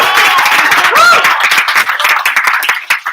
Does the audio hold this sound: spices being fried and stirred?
no